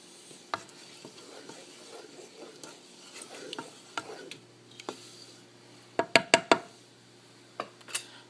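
A spoon stirs Khaub Poob mixture in a pot, with soft scraping and sloshing, then a cluster of sharp knocks against the pot near the end, close and fairly quiet, no voices.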